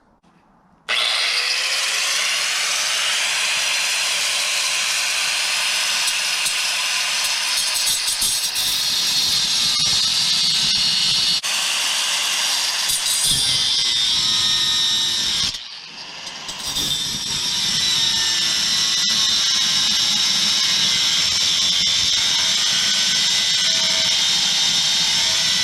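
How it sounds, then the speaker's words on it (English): A diamond-bladed cutter slices through a bolt on a 1962 Valiant Signet 200 barn find during a rear end swap, a loud, steady high-pitched grinding whine running for about twenty seconds with a brief dip midway before resuming. "I've always used this diamond bladed thing. I mean, I've had it for years, and it just cuts like butter."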